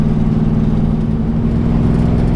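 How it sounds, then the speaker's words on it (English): Exhaust of a 1957 Chevrolet with a newly fitted exhaust system rumbles inside the cabin while driving, a loud, steady low drone with constant engine hum and no talk. "You can actually hear some exhaust in here."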